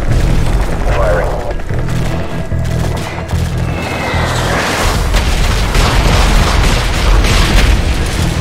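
Booming airstrike explosions called in during a Call of Duty: Modern Warfare 3 mission, rumbling continuously and loud alongside a steady low drone, with no clear separate blasts.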